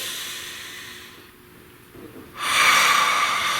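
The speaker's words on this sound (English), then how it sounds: "Breathe." A single deep breath, drawn slowly and quietly and then let out as a louder, airy exhale near the microphone, with no talking.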